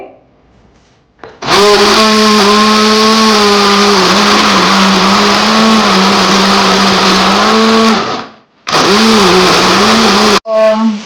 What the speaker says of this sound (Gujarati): એ જ્યુસર છે, પણ અમે છે ને મિક્સર ની જેમ વાપરી છે.